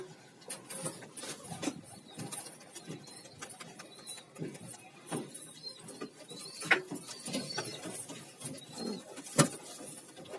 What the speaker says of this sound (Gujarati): ઘણા દિવસથી કબૂતર નથી ઉડાડ્યા તો ચાલો આજે કબૂતર ઉડાડીએ